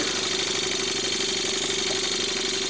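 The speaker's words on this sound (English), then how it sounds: "And there's the engine running now." A Luton Bowman valveless steam marine engine drives a generator powering two lamps, giving a steady, loud, continuous mechanical running hum with a fine rhythmic chuffing beat throughout, alone and without voices.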